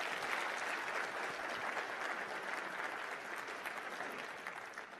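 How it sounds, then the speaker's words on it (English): A keynote audience at a big data conference breaks into sustained, dense applause that stays loud and even throughout, with a faint crowd murmur beneath and no clear speech. "big round of applause for Ken."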